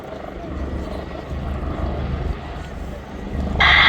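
An Army Air Corps Wildcat AH1 helicopter makes a rapid reposition during a Duxford air show role demonstration, a low rotor and engine drone that swells louder toward the end, with a public-address commentator talking over it.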